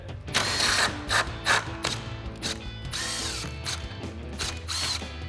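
A 10mm socket ratchet backs out grille screws on a RAM 2500, with several close bursts of rapid clicking broken by short pauses and no talk.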